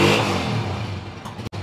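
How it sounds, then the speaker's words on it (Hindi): A motorcycle engine revs loudly close by, a rough buzzing roar that eases slightly before a brief cut near the end. "साहिब भाई साउंड बहुत अच्छे होते हैं आपकी बाइक"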